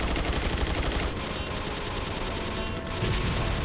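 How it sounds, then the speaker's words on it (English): Big gun firing on turrets in the video game Resident Evil 4, a loud continuous stream of rapid shots and rumbling blasts with no talk. "I'm assuming I'm just going to jump in this and shoot the shit out of those good turrets."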